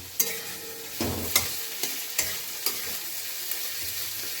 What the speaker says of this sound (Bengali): এখানে ভাজতে রেখে দিয়েছি আদা, ফোড়নে দিয়েছি জিরে আর কাঁচা লঙ্কা, রসুন আর পেঁয়াজ। এটা ভাজছি আমি।